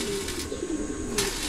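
Pigeons in a loft coo in a low, steady, close-up warble that carries through the whole stretch, with no voices over it.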